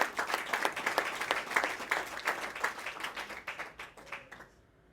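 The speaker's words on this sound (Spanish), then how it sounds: "Si va ese aplauso, dáselo fuerte." Audience applause in a church service, a loud, dense wash of clapping that gradually thins and fades out over a few seconds.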